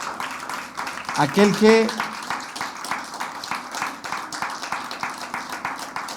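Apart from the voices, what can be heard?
congregation applause in church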